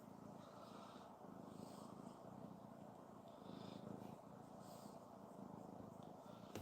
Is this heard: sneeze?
no